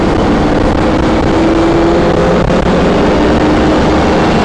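A 1997 Safari Trek Pathmaker 2480 motorhome accelerates on a highway, its engine drone loud and steady under heavy road and wind rumble, with a rising tone threading through the noise.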